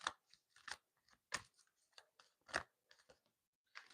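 Tarot cards being shuffled by hand, giving short crisp bursts of riffling and flicking in an uneven rhythm, close and fairly quiet with brief pauses between.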